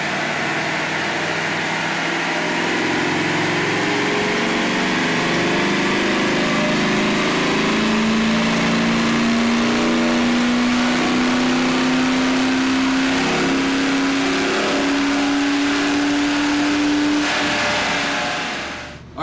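A 1995 Ford F150 engine, its mechanical clutch fan removed, runs hard on a dyno: a loud, steady drone whose pitch climbs smoothly through the pull, then cuts off abruptly at the end, with no talk.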